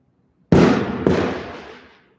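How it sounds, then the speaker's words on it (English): Two sharp firework bangs go off nearby in a street on the Fourth of July, a loud crack followed half a second later by a second one, each trailing into a long crackling, echoing decay. "There's someone like right over there in like a street, but that's like setting off fireworks."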